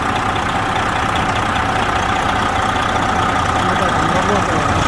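A 2004 Freightliner Century truck engine idles steadily and loudly close by, a continuous even rumble with a hissing top end that stays constant throughout, with no talking over it.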